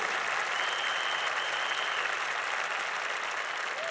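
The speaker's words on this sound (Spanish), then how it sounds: "Alguien puede darle un fuerte aplauso a nuestro Dios." A church congregation applauding during a sermon, a steady wash of many hands clapping at moderate loudness, fairly distant and even throughout.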